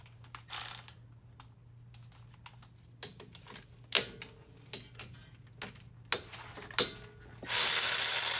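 A brake caliper on a 2023 Mazda 6 is squeezed by hand, giving a close series of sharp, irregular mechanical clicks and knocks, with a steady low hum underneath and a burst of loud broadband noise at the very end.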